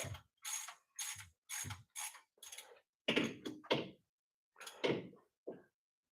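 Bolt being worked out of a Holley 4150 carburetor, a series of short metallic ratcheting and clicking bursts in an uneven rhythm, close up and fairly quiet.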